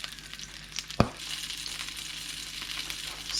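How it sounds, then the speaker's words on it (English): Shishito peppers sizzle and char in a hot pan with a steady, fairly quiet frying hiss and one sharp pop near the start. "So basically you want to char the pepper, basically char all around."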